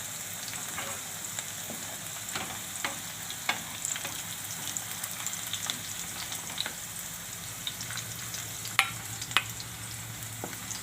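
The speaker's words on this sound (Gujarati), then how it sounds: "જોઈ એકદમ સરસ બટેટા આપણા થઈ ગયા છે ફ્રાય" Potatoes frying in a pan for a soya chunk and potato curry, giving a steady close sizzle with scattered crackles and pops throughout, no talking.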